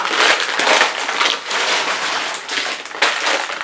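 Dry pasta rattles and crunches continuously in a packet, a bright, crackly shuffling with a few louder bursts, close and fairly loud, no talking.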